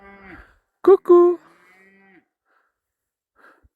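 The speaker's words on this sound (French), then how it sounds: "celle qui meugle, elle a son petit" A cow with a calf on the way moos on a farm outdoors, two loud close lowing calls following a short spoken greeting, then quiet.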